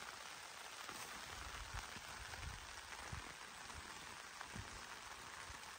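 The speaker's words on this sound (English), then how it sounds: "It's absolutely torrential rain now." Torrential rain drumming on a tarp in a misty Northumberland forest, a steady dense patter with scattered heavier drops, close and continuous, with no voices.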